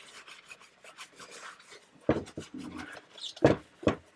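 A cloth rubs lemon oil into the fretboard of a 1981 Gibson SG, soft, scratchy rubbing strokes that start faint, then turn into a few louder, sharper scrubbing bursts up close.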